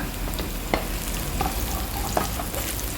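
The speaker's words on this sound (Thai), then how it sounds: "ผัดเห็ดหอมต่อไปเลย เอาเห็ดหอมลงเลยค่ะ ผัดต่อไปให้หอมค่ะ" Shiitake mushrooms stir-frying in a hot pan, a continuous close sizzle with occasional scrapes and clicks of a spatula, fairly quiet, no voices.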